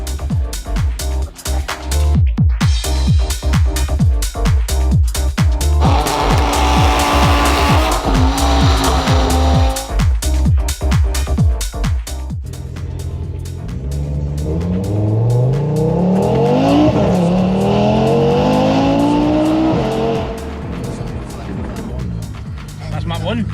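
A tuned Audi RS3 running on map one roars loud and close, with repeated hard acceleration and rev-limiter stutter, followed by a long rising pull with tyre noise.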